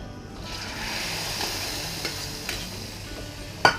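Steady sizzle of hot mint oil poured into manti soup, with faint crackles throughout, ending in a sharp clink near the end.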